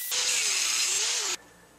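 A power tool, most likely a small cutoff tool, grinds steadily through a threaded metal rod held in a vise. It gives a loud, continuous high whine for over a second, then stops abruptly, leaving a faint hum.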